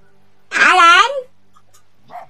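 A fox in the video game Spirit of the North gives one drawn-out barking yelp, close and fairly loud, followed by a faint short call.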